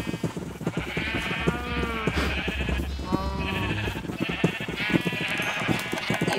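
Sheep in a city-building video game bleat repeatedly in overlapping, wavering cries over a steady low rumble, several animals calling at once throughout.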